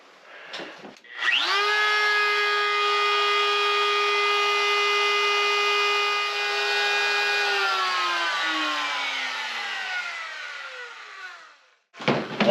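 Power tool carving wet pine wood, a loud, steady, high-pitched whine that holds for several seconds and then slowly drops in pitch as the tool bites, bracketed by brief bumps at start and end.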